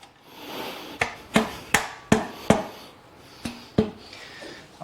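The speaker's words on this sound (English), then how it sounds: "And just tap it back on." A muffler clamp is tapped back onto a replacement Tab Performance slip-on muffler on a Harley-Davidson, heard as about eight sharp metallic knocks in an uneven rhythm, close and fairly loud, with no voices.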